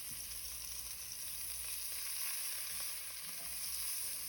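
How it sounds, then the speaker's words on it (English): Chopped onion and garlic frying in a pan for risotto, a soft, even, steady sizzle heard fairly quietly without voices. "Add your onion and your garlic to the pan and cook for about 1 minute or until fragrant."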